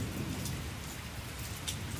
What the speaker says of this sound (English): The rain fell in sheets